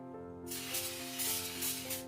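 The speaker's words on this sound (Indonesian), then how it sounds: "Ini tempatnya saya semprot minyak sedikit ya" Oil sprayed from a spray bottle onto a baking pan before proofing bread dough, a steady close hiss starting after a brief pause and running continuously under a faint background tone.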